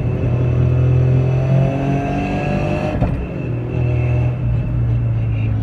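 A tuned 600bhp Toyota GR Yaris engine pulling hard from close inside the car, a loud continuous rumbling growl that rises in pitch, briefly dips at a gear change, then keeps building.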